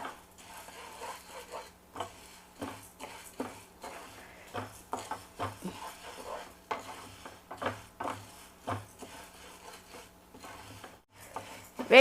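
Toor dal, chana dal and coriander seeds are dry roasted in a pan, with soft, irregular scraping, stirring and rattling of the grains against the metal, close and quiet.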